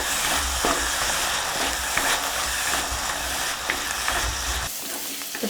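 Onions sauté in a clay pot over a medium flame, giving a steady, close, dense sizzle and crackle with faint stirring scrapes throughout, then dropping off near the end.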